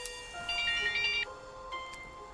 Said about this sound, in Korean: 본인이 설정한 벨소리가 아닌 다른 벨소리가 울렸을 때